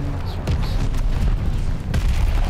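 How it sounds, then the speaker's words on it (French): A mortar shell explosion in Call of Duty: Vanguard, heavy low booms rumbling loudly amid battlefield noise with several sharp impacts throughout, no talking. "Ah, le mortier qui me tue"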